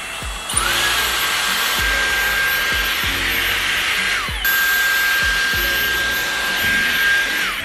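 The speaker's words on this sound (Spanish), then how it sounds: "Mirad qué guays las planchas, que si aprietas esto hace como un secador" A Dyson hair straightener blows air like a hair dryer, a loud steady whoosh with a high whine, briefly interrupted once and then resuming, close and alone.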